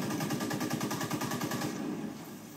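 Rapid automatic gunfire from a weapon in the video game Division 2, a dense rattling burst of shots in steady rhythm, loud and close, tapering off near the end with no talk.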